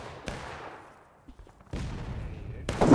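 Gunfire in a large-scale American Civil War battle in a video game, with scattered distant musket shots and a sharp nearby crack, then a denser burst of volleys later.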